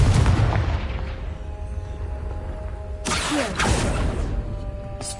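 Confringo fire spell blast cast in Hogwarts Legacy, a sudden broadband burst about three seconds in, with a second whooshing burst following, over steady game ambience.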